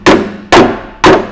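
Three sharp hammer blows strike metal on a cheap Mercedes recovery truck under repair, evenly spaced about half a second apart, loud and close with short ringing decay.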